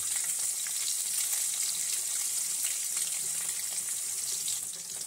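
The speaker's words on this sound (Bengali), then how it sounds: "এই যে মাছটা এরকম ভাজা হচ্ছে" Small fish frying in hot oil give a constant crackling sizzle, moderately loud and close, that holds steady from start to finish with no speech over it.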